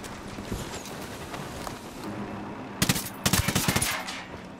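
Automatic gunfire in Ghost Recon Wildlands, with a few scattered shots early on and then two dense, loud rapid bursts near the end, all over steady game ambience.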